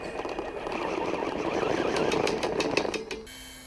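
An FTX Kanyon V2 RC truck motor whines steadily as the truck drives, a close, buzzing electric hum with rapid pulsing that holds for about three seconds and then drops away.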